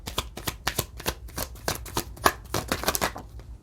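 Tarot cards being shuffled during a reading, a close series of crisp riffling bursts and soft flicks in an uneven rhythm, loud and alone with no talk.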